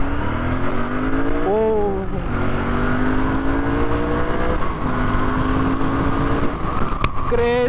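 A Royal Enfield Bear 650 motorcycle accelerates hard through the gears, engine pitch climbing in repeated sweeps with brief drops at each shift, loud and close, while a rider briefly exclaims over it.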